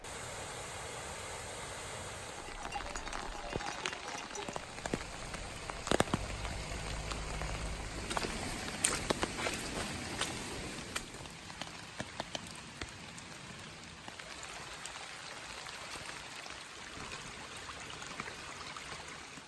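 Rain falling steadily on a surface, a continuous hiss with scattered drops pattering close by, moderately quiet throughout.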